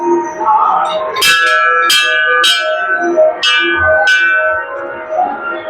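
A metal temple bell is struck several times in an uneven sequence, each strike ringing bright and close before fading into the next.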